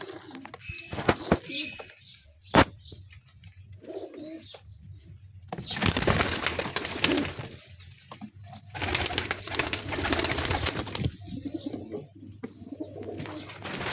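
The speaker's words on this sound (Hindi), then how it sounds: "ये सारे प्रिंस कमगर कबूतर हैं।" Prince Kamgar pigeons coo in soft, repeated calls close by. Louder rustling bursts, wing flaps and clatter come and go, and no one speaks.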